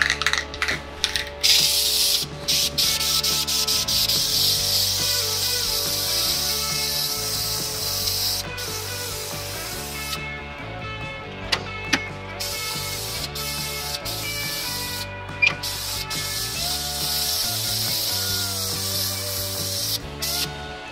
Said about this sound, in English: we're going to give the first coat of paint to that side in the front